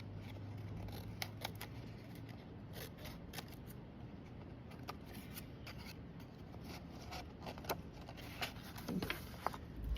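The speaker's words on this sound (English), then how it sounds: "So I'm just gonna look and trim that along the edge." Scissors trim woven paper along the edge of a paper fish craft, giving a steady run of soft, close snips and rubbing crinkles with a few sharper clicks toward the end, and no talking.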